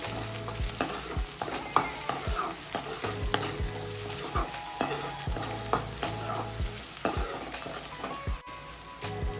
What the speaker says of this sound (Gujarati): ટામેટાને પણ સારી રીતે હલાવી અને સાંતળી લઈશું। બધા મસાલાને સારી રીતે મિક્સ કરી લેશું।